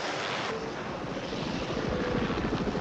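A steady rotor and engine drone, like a helicopter passing nearby, with a rhythmic chopping pulse growing slightly stronger.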